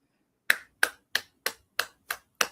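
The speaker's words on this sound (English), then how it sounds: "I hope you can hear my little clap." One person claps softly seven times at an even, unhurried pace, each crisp, close clap standing alone against silence.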